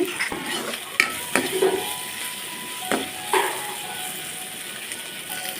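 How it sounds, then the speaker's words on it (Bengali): Prawns and onions fry in a pan with a light sizzle, broken by several sharp clicks and scrapes of a utensil stirring against the metal. "চিংড়ি মাছের সঙ্গে পেঁয়াজগুলো ভালো করে ভেজে নিচ্ছি"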